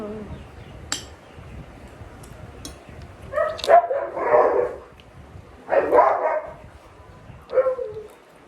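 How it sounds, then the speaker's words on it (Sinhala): Dogs bark in a few separate bursts at moderate distance, with light clinks of cutlery and quiet room noise between them. "බල්ලොත් බුදනවා ගණන් ගන්න."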